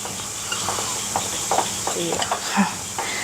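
A spoon stirs wheat flour batter in a bowl, with scraping and soft clinks over a background sizzle and a brief voice, in short irregular strokes.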